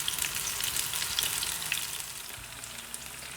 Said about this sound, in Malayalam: നമുക്കിത് മീഡിയം ഫ്ലെയിമിൽ വെച്ചിട്ട് വറുത്തെടുക്കാം.